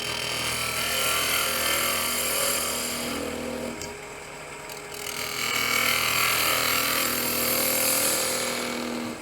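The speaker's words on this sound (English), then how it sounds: "I want to hollow out that foot just a little bit more than it is. So let's take this little tiny gouge here." A tiny quarter-inch-shaft gouge hollowing the foot of a small endgrain wooden bowl on a lathe, a steady close scraping hiss with a short pause midway before cutting resumes.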